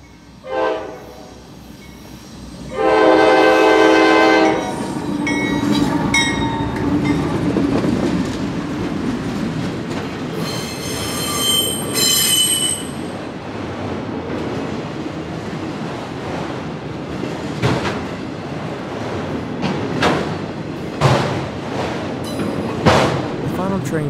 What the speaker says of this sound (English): Train for this video was Q703, which I saw just down the tracks from St. Denis.